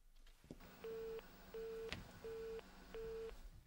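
A telephone busy tone sounds after the other end hangs up: four evenly spaced beeps in a steady rhythm, faint and tinny, with a small click between them.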